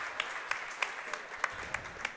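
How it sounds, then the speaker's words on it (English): A crowd at the 2016 Racquetball World Championships men's singles final applauds after a long rally, with soft distant clapping and a steady patter of sharper claps, faint under the hall's ambience. "there's applause from the fans here"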